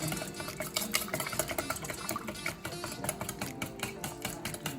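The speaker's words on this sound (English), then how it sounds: "And whisk this all in." Cornbread batter ingredients are whisked briskly in a bowl, giving a steady, rapid ticking of wire against the bowl with wet stirring sounds that run unbroken and close throughout.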